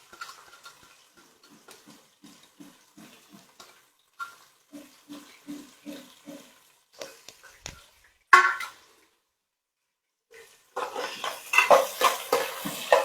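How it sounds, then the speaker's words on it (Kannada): Onions and green chillies stirred and frying in a pan with chana dal, urad dal and hing. Faint scattered clicks give way to a sharp clatter, then a run of loud hissing, scraping stirring bursts near the end. "ಈರುಳ್ಳಿ ಹಸಿಮೆಣಸಿನ್ಕಾಯಿನ ಈ ರೀತಿ ಫ್ರೈ ಮಾಡ್ಕೋಬೇಕು."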